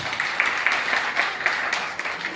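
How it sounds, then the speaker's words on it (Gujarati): Audience applause at a savings cooperative opening ceremony, a steady wash of many hands clapping at moderate distance with a few sharper claps poking through. "એ દાદા માટે એકવાર જોરદાર તાળી થઈ જાય"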